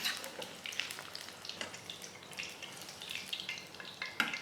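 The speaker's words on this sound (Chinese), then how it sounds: "你就大火了炸到它有点上色上了一点金黄色就可以捞出来了" Fish deep-frying in hot oil over high heat for a Nyonya asam fish dish, a continuous crackling sizzle with busy popping and bubbling, close and fairly loud.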